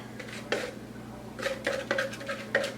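Fork and knife clink and scrape against a plate while cutting into a glazed sour cream coffee cake, several sharp close taps spaced unevenly over a quiet background.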